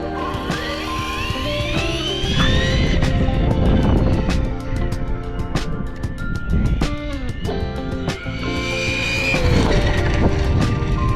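A Losi 8ight-XE 2.0 RC race buggy makes high-pitched electric motor whines that rise and fall as it speeds past on a track, loud and close, with sharp clicks and bumps between the passes.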